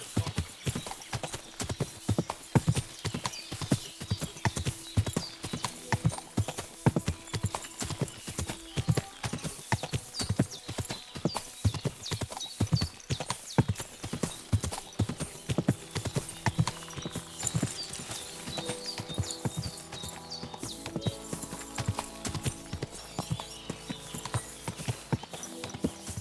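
Horse hooves clip-clopping in a steady fast rhythm with occasional neighs in the video game Kingdom Come Deliverance II, close and continuous, with music entering near the end.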